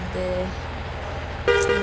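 A synthetic truck horn in Truck Simulator Indonesia gives two short toots, one near the start and a brighter one near the end, over a low engine hum.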